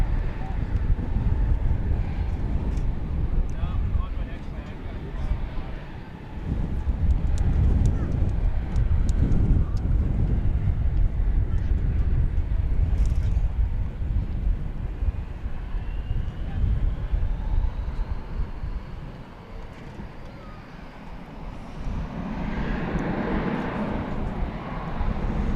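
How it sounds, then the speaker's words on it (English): An American Airlines Airbus A321 taking off from runway 18 left at DFW airport, bound for Sacramento, makes a broad jet roar that swells and fades, with a slowly rising whine and wind buffeting the microphone. "American Flight 2666 is poised for takeoff to Sacramento, California, an Airbus A321."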